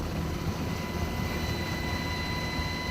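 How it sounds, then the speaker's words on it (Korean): A military helicopter roars over a special forces tactical training ground. Its engine is a steady, dense rumble with a faint whine on top, continuous and fairly distant, with no voices. "헬기가 굉음을 울리고 있다."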